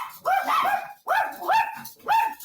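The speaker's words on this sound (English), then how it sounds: "My dogs." Dogs bark indoors at home, close and loud, in three or four separate bursts of sharp, yipping barks with short gaps between them.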